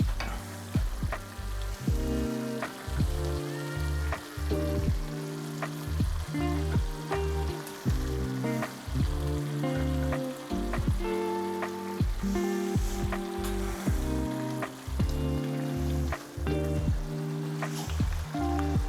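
Tuna pasta sauce sizzles steadily in a frying pan as pasta water is added, a continuous close crackling fry with soft stirring clatter running throughout, no voices.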